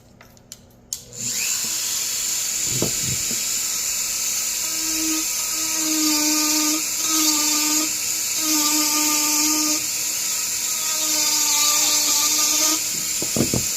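A Dremel rotary tool fitted with a taper burr carves a wood spirit face into wood, giving a steady high-pitched whine that rises and dips in short bursts as the burr bites, close and loud with no talking.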